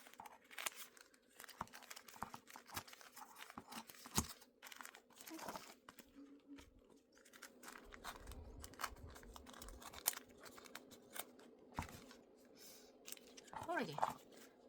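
Material for a miniature doll house sofa is cut carefully, giving soft crinkling and snipping sounds in irregular bursts, quiet and close, with some speech around it.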